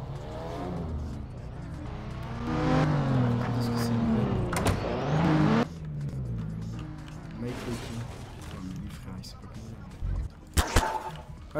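A car engine hums and revs in the video game Garry's Mod, rising and falling as the vehicle accelerates, with a few sharp knocks near the end.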